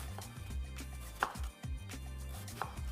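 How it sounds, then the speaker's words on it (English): Knife dicing onions on a board, a few sharp chopping taps spaced irregularly over a low background hum. "So I'm just going to be chopping these onions into a diced form."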